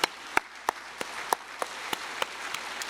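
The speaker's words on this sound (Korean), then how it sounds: "하나님 앞에 감사 박수 올리겠습니다" Congregation applause during a Korean church worship service, a steady wash of clapping with sharper individual claps standing out at regular intervals, moderately loud and continuous with no talk over it.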